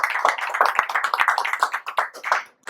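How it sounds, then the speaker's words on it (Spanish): A room full of people claps for the author Gerardo at his book launch in El Péndulo bookshop, with brisk, continuous applause and sharp individual claps standing out. "Y los aplausos para Gerardo"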